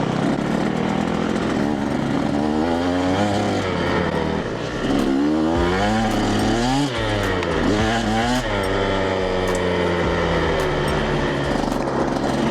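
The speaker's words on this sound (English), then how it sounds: "this thing sounds a little bit different than my traditional electric bike that I typically ride on this channel." A 48V Razor MX650 electric dirt bike runs loud and close, its motor whine steady and then climbing and falling in pitch over and over as the throttle is worked; no talking.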